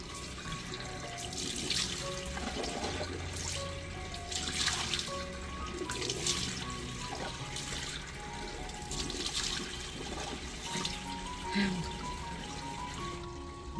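A tap runs steadily into a sink during a morning face wash, with close, continuous splashing and gurgling as hands scoop and throw water.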